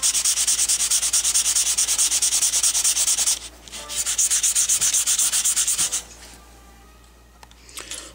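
A CPU processor being lapped on 400 grit sandpaper, heard as steady, rhythmic back-and-forth scraping strokes, close and loud, with a short pause midway and quieter, scattered rubbing at the end.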